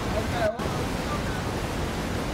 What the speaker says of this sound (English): It's just really loud waterfall!